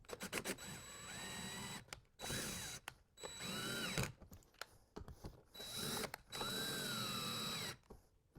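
A cordless power screw gun driving screws while mounting a ceiling speaker: several short whirring bursts, each ending in a clicking ratchet, separated by brief pauses, close and fairly quiet.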